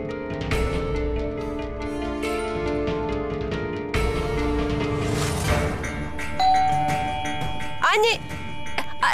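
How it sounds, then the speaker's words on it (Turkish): A doorbell rings in a domestic drama scene, a clear electronic chime set against background music and voices in a home, with the tones sounding midway and again near the end. "Zil çaldı. Kapıda biri var."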